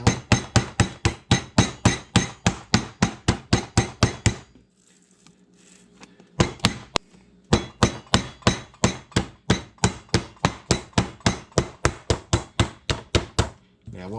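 A meat mallet pounds pork flat on a board in fast, even, loud thuds, a long run of blows, a short pause with faint movement, then another steady run of hits.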